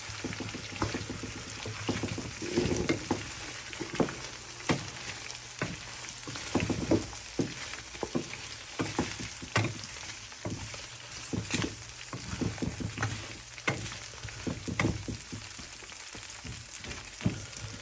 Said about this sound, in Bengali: এই যে তেল গরম হওয়ার পর পরে দিয়ে দিলাম মরিচ, কাঁচামরিচ, পেঁয়াজ, রসুন।